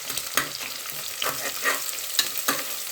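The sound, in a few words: frying onions in oil until brown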